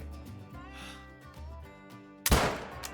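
A single loud 6.5 rifle shot from the hunting game Call of the Wild, taken from a prone position, cracks sharply after a stretch of quiet game ambience and background music, then trails off into a short rolling echo.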